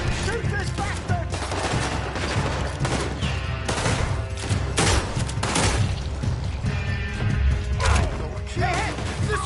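Rapid gunfire from Red Dead Redemption 2 crackles in dense, loud volleys with crashes and thuds, a near-continuous fusillade lasting the whole stretch, with shouted voices mixed into the din.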